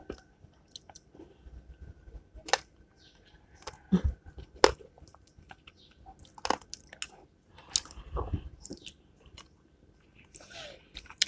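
Passion fruit is bitten and chewed up close in quiet surroundings, with scattered wet, squishy chews and a few sharper crunchy bites spread irregularly throughout.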